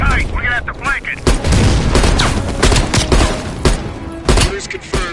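Machine gun fire rattles in a war video game, with dense rapid bursts and sharp shots, some near and some farther off, while voices talk over the shooting.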